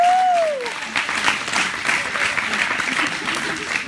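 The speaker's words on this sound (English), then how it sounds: "with a big round of applause" Audience applause at a graduation-night hypnotist show, a dense, steady roomful of clapping that holds for several seconds after a brief tonal sweep at the start.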